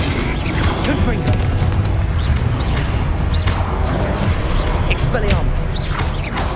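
A fiery Confringo spell blast in the Hogwarts Legacy video game erupts amid dense, continuous booming and crackling effects, loud and busy throughout with swishing bursts layered over a rumbling low end.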